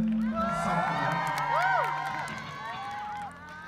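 A concert crowd at a performance cheers and whoops loudly with some applause, a sustained roar with rising shouts, while amplified music and a voice carry over it.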